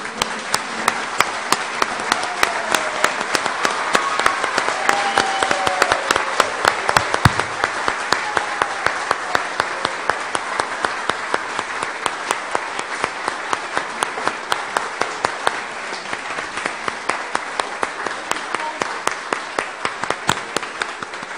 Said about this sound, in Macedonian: Ќе ве замолам да станете и да ги поздравиме со аплауз за нивната голема работа